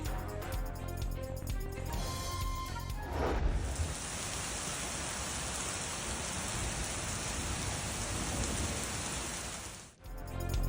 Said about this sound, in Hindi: इस्लामाबाद में तेज हवा के साथ हल्की बारिश का सिलसिला जारी।